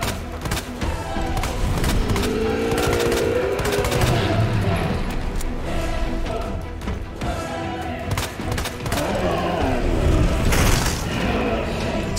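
Gunfire in Resident Evil 2 as the player burns through ammo, dense bursts of shots and thuds layered over game music and effects, loud and continuous throughout, with some speech mixed in.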